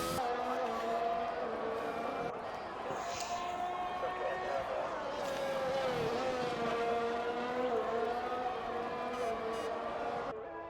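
A Formula 1 car from a racing video game laps the track, its high engine note holding steady with rising and falling pitch through gear changes and corners, continuous and prominent.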